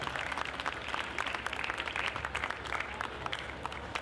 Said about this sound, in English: let's give a round of applause for Danbury's 325th birthday